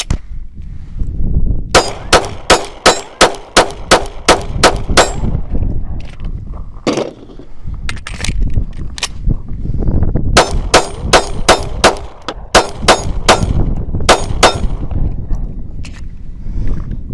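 A pistol fires at an outdoor range in two rapid strings of sharp, loud, close shots, each crack ringing briefly, with a short pause between the strings.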